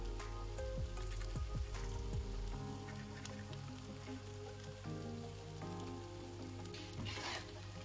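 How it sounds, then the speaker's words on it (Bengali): Stuffed paratha filling seasoned with sugar and roasted cumin powder being stirred in a pan, a soft steady sizzle with scraping spoon strokes in the first seconds, faint and close, no talk. "ভালো করে নেড়ে নিচ্ছি।"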